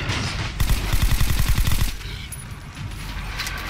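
Rapid automatic gunfire in the video game Metro: Last Light, a fast burst of close, punchy shots for over a second, then a lull with faint game ambience.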